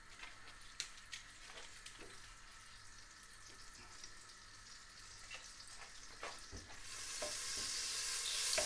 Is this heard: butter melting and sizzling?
yes